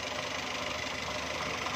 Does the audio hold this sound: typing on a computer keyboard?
no